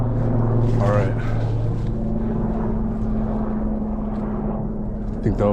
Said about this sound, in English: I think that was a helicopter or a plane or something up there.